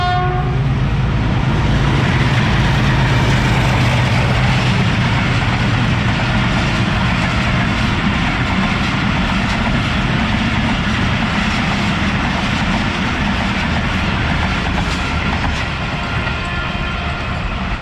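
A train passes through the historic, roughly 110-year-old Kharian railway station on its main line, producing a loud, steady rumble and rattle of cars that fills the whole stretch, with no talking.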